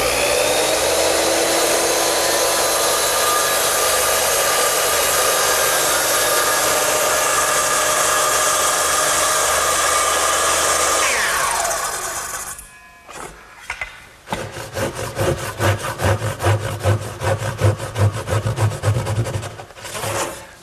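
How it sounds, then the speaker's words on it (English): A circular saw rips along a straight edge through wood for a stool, a loud sustained whine lasting about twelve seconds that winds down, followed by rhythmic rasping strokes of a hand saw finishing the cut. "to make the vertical or the rip cuts, I use the same gauge block, straight edge, and my circular saw"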